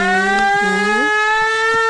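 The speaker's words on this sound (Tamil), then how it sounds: "என்னடா அது கிளம்பும் போது சங்கு சத்தம்?" Conch-like siren wail in a Tamil comedy scene, a loud sustained rich tonal blast with a low voice-like tone bending upward beneath it, steady throughout the two seconds.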